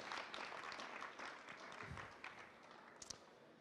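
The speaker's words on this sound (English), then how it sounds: "I think the panel deserves a round of applause now" Applause for a panel at a carbon-neutral cities business conference, quiet and somewhat distant, with scattered claps continuing and a couple of sharper taps near the end.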